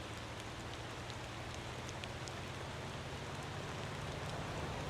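Steady rain in the driving game Motor Town, a dense, even hiss of falling drops that stays constant and close throughout, with no voices over it.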